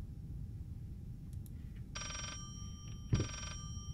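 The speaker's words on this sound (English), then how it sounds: "I hear a phone." A telephone rings twice in the horror video game Layers of Fear, two short clear bursts over a low, dark rumbling ambience.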